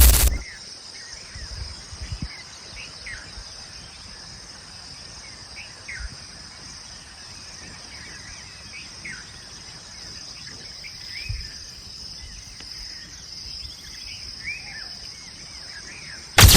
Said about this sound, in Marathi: पक्ष्यांचा मोरांचा आवाज ना दुखळा येत होता बघा